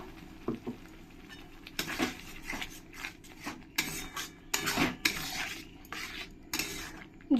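A utensil stirs ground spice paste thinned with water in a pan for a fish curry, giving soft scraping and clinking strokes in an irregular rhythm, close and fairly quiet.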